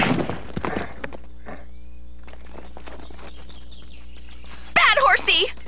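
Cartoon horse hooves clip-clop in a quick rhythm amid a medieval-themed animated scene, with voices and bird-like chirps in the mix.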